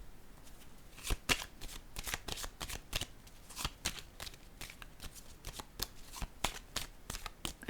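Playing cards handled and set down one after another during a magic and mind-reading performance: a steady run of crisp, close snaps and flicks, with a few sharper taps as cards land, and no voices.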